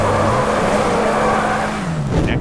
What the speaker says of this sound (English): Without traction control, the vehicle struggles to maintain grip and can easily lose traction.